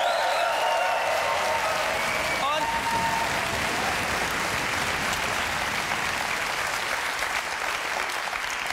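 A studio audience at a German TV comedy show claps steadily, a dense, loud wash of applause that holds without a break from start to finish.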